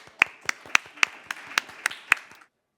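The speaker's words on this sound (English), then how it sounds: "Round of applause for our speaker." Slow, sparse clapping welcoming a speaker at a business talk, about nine distinct claps at an even rhythm, close and fairly light, stopping abruptly into silence.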